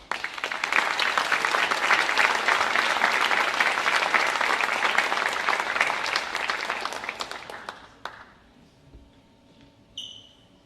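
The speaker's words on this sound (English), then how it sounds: "Another round of applause." An audience applauds at a 2016 school academic awards ceremony, with sustained, dense clapping for about eight seconds. It then tapers off and stops, and a brief voice follows at the end.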